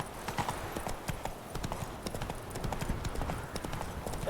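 Roach, Geralt's horse in the video game The Witcher 3, gallops with a rapid, steady clip-clop of hooves throughout, loud and close over a dense rumbling game soundscape, without talking.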